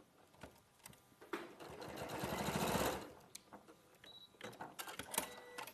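A sewing machine stitches a seam in a short run of rapid whirring needle strokes lasting about two seconds, close by, framed by fabric handling clicks and rustles.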